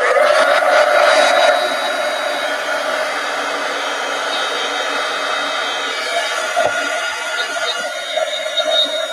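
A hair dryer blowing to dry wet paint on a journal cover, a steady close whooshing roar that runs the whole time, louder at the start and holding a constant airy hum.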